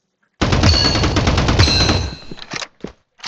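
Rapid automatic gunfire in a first-person shooter game, a dense loud burst of shots lasting about two seconds, followed by a few scattered single impacts and clatters.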